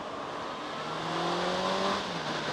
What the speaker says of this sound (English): I just put my stock exhaust back on the bike, actually.